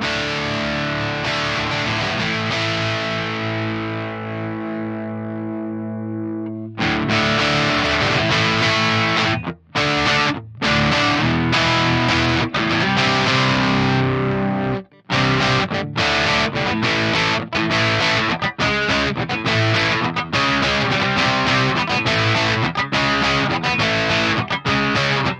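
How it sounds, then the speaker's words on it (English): Distorted electric guitar played through an Orange amp model on an Axe Fx III, opening with a sustained ringing chord that fades, then dense loud riffing with a few brief stops. "you're either gonna love the distortion on orange or you're gonna hate it"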